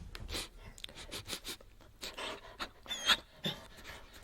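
A dog pants in short, quick breaths as it passes close by, the huffs rising and falling unevenly for a few seconds with faint rustles, no speech.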